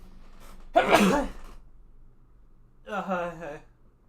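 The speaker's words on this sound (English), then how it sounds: "I gotta sneeze." A single sharp sneeze bursts out close by, followed a moment later by a shorter voiced sound, in an otherwise quiet room.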